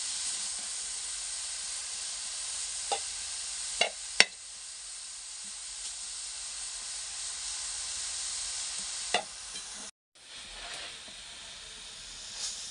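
Grated carrots fry in ghee for gajar halwa with a steady close sizzling hiss, broken by a few sharp clinks of a spoon as they are stirred.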